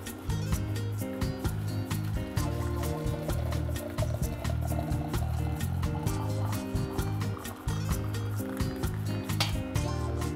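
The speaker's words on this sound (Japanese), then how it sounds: "じゃあまずお湯入れていきますね" Hot water poured into a coffee kettle, a steady liquid stream running for several seconds, heard over a continuous low background hum and frequent clicks.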